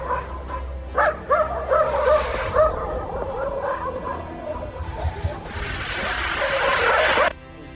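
During a dog attack, a dog barks and yelps repeatedly in loud bursts mixed with scuffling and commotion, ending in a sustained harsh noise before cutting off.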